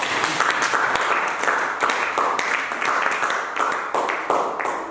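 A church congregation claps and applauds in praise of God, a steady, energetic crowd of hands with rhythmic surges, fairly loud and filling the room throughout.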